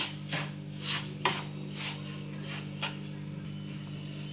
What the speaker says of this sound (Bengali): সুজিটা হালকা করে নেড়ে নেব